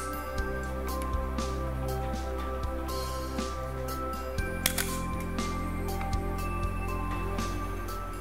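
The self-timer of a Pentax SP film camera runs with a steady mechanical buzz and whir, a few small clicks punctuating the continuous close-up hum.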